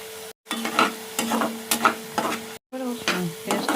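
Onions sizzle and fry in hot oil for doi katla, a Bengali yogurt fish curry, with steady crackling broken by repeated stirring scrapes and two brief silent gaps.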